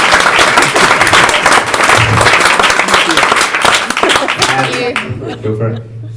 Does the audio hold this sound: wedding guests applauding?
yes